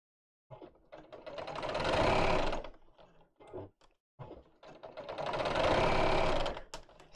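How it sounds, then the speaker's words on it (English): A sewing machine stitches through fabric in the seam allowance, running in two steady, close bursts of rapid mechanical chatter of roughly two seconds each, separated by a short pause with light handling clicks. "Well, I am sewing in the seam allowance."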